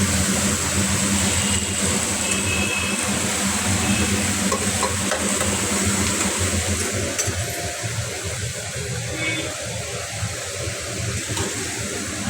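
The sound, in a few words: stirring food frying in a pan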